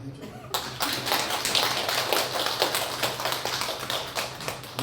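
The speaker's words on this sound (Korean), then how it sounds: "우리 주방 봉사하신 분 박수 한번 해줘요" A church congregation applauds its kitchen volunteers after a Sunday morning service: dense, steady clapping from many hands that swells quickly after a brief quiet start and keeps going with a loud, sustained patter.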